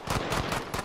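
Shotgun fire in Call of Duty Modern Warfare during a 3v3 Gunfight tournament match, four sharp blasts in quick succession, close and loud, with no talking.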